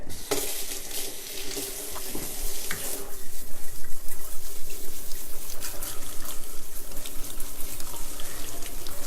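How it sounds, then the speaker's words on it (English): A tap runs hard into a kitchen sink while fresh parsley is rinsed, a close, continuous splashing hiss that grows fuller partway through, with no talking. "just give my little parsley here a quick rinse again"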